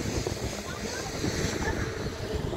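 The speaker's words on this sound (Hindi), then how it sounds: "आज बहुत हवा चल रही, पानी भी गिर रहा है" Strong wind gusts roar steadily across the microphone with rain falling, a dense continuous rushing noise that stays loud and unbroken throughout.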